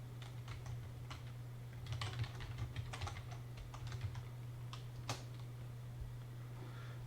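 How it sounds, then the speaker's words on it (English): Fingers type on a computer keyboard in quick, uneven bursts of soft clicks with short pauses, heard close and fairly quiet over a steady low electrical hum. "if I type elementary"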